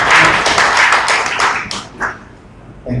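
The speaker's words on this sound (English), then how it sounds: "Let's give them a big applause." Audience applause at a social business design lab, a burst of clapping from a modest crowd that thins out and fades toward the end, with a brief sound near the close.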